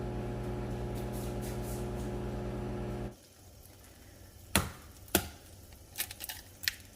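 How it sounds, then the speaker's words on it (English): A microwave oven running with a steady low hum while heating breakfast, which cuts off abruptly partway through, followed by a few sharp clicks and door or beep sounds in a quiet kitchen. "Going into the microwave."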